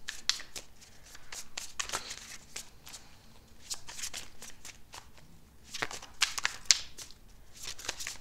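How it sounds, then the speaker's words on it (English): Tarot cards are shuffled repeatedly, crisp riffling bursts and soft slaps in an irregular rhythm, close and fairly quiet, with no talking. "I don't rush shuffling"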